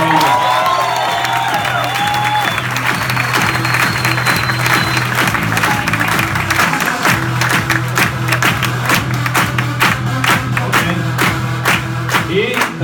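Loud, dense applause from an audience at an event in Medellín, with cheers and whoops rising through the crowd and the clapping turning into a sharper rhythmic beat toward the end.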